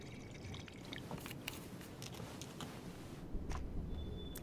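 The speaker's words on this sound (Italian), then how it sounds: "I'll fill up our bottles and I'll catch up with you guys." Water bottles being filled in the game Life is Strange 2, a faint liquid pour and drip over low ambient noise, with occasional small clicks and a brief thin tone near the end.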